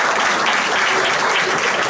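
Applause from the audience at a French pétanque federation ceremony honouring a newly elected national committee member, a steady dense clapping that fills the room without pause.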